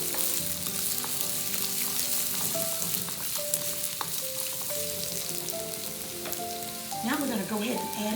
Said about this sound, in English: while those carrots are getting started, we're gonna give them a quick stir.